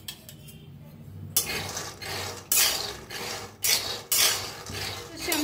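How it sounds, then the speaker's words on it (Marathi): Half a kilo of peanuts roasting in a pan for a jaggery karanji recipe, with a spoon or spatula scraping and stirring them in repeated sweeps, loud rasping strokes roughly every second against a low background hum. "शेंगदाणे का नाही छान असं शेंगदाणे भाजून घ्यायला लागले मी"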